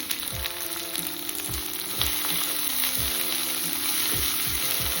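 Tomato pieces frying in a pan with salt give a steady, dense sizzle, with regular low stirring thumps and scrapes running through it, close and continuous with no talk.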